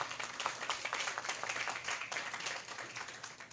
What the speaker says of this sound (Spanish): Un fuerte aplauso para el señor Miguel